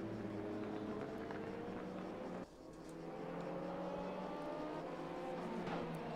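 Race cars in a multiclass GT2 field drive at Paul Ricard in the RaceRoom racing game, engines droning and shifting pitch continuously, with one car's note rising as it passes close.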